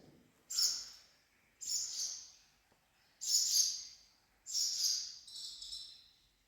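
Five sharp, high-pitched bird calls ring out at a steady pace, each a short screechy burst followed by a brief pause, clear against quiet surroundings.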